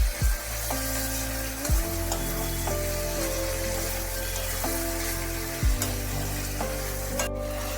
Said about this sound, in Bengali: দেখো শিমগুলো কিন্তু মোটামুটি ভাজা হয়ে গেছে।